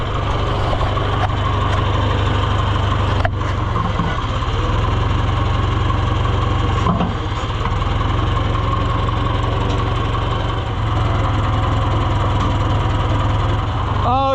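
A hay-cutting machine's engine running in a high gear, a loud, steady, close rumble that holds level throughout with a few faint knocks and clanks.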